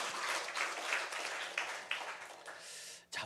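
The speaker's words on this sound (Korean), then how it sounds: "우리 하나님께 영광의 박수 올려드리겠습니다" Congregation applause during a Korean church Sunday worship service, a steady wash of many hands clapping that fills the room, with a few sharper bursts and a brief drop near the end.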